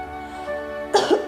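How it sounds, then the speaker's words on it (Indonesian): A short, harsh cartoon cough from dust bursts out after a low held tone, close and fairly loud. "Debu yang bertebangan tentu saja membuat tiga sekawan itu terbatuk-batuk."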